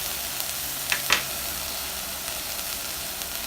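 Apples with vanilla and cinnamon cook in a pan, giving a steady, even sizzle throughout, with a couple of brief louder crackles near the start, no voices.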